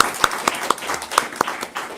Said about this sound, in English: we can have another round of applause for our guests